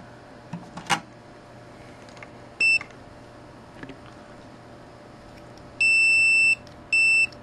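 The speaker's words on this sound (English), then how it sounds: "Continuity test seems to work." Handheld multimeter continuity test beeping: one short electronic tone, then a long steady beep and another short one, loud and close, with faint clicks of the probes between them.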